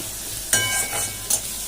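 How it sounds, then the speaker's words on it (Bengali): Onion and green chilli fry alongside potato in a pan, producing a steady close sizzle punctuated by two sharp stirring scrapes, without any talking. "পেঁয়াজ আর কাঁচা লঙ্কাটা আগে ভেজে নিলাম"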